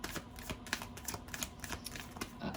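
A deck of tarot cards being shuffled by hand, giving a steady run of quiet riffling and tapping clicks with no voice over it.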